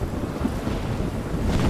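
Stormy wind in the video game Life Is Strange, set in Oregon, roars as a steady, loud broadband gust that swells slightly toward the end, with no voices.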